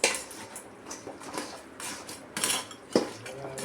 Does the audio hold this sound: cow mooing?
no